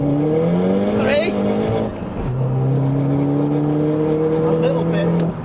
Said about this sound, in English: Let's see how many gears we can have it spinning in.